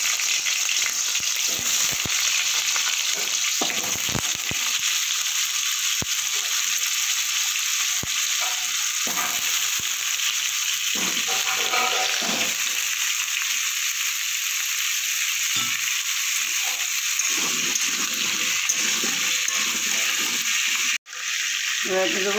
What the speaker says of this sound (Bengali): তেলটা আমার গরম হয়ে গেছে। এবার আমি আলুগুলো একটু ভেজে নেব।